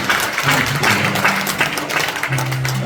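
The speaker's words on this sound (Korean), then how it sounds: "우리 저희 강사님께 다시 한번 박수." A seated audience at a lecture on reunification applauds the speaker, a loud dense patter of many hands, with low voices and a murmur mixed in beneath the clapping.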